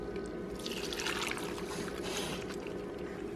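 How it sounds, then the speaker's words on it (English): Hot noodle broth made with beef stock and hot water is poured into bowls, a steady watery splashing and trickling that swells and eases over a few seconds, close by with no talking. "I'm going to pour it into these bowls."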